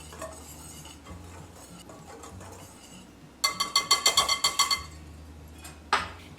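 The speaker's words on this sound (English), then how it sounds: "we're going to whisk this all together" A whisk stirs flour, sugar, salt, baking powder and lemon zest in a bowl, with a quick run of about a dozen rhythmic clinking strokes against the bowl, then a final lone tap, over a low background hum.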